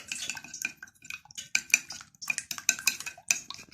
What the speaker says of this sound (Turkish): kaşık yardımıyla böyle çırpıyoruz